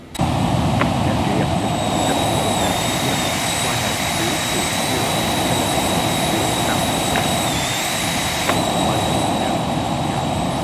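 Loud, continuous whine and roar of Embraer Phenom 300 business jet engines in the X-Plane 11 flight simulator, steady throughout, with a high-pitched tone that shifts slightly now and then.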